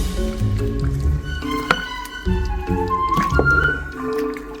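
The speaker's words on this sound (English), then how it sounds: "Give it a good stir." A big spoon stirs homemade vegetable stock in a pot, giving close, wet sloshing and squishing with gentle drips and knocks, steady and fairly loud, without talk.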